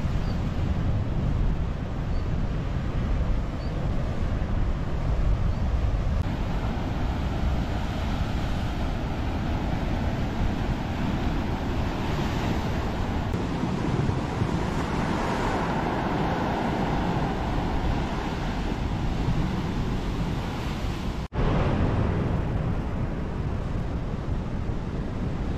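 Strong ocean waves crash and wash along a coastal walking path under strange clouds, a steady broad roar with wind buffeting the microphone and no talk.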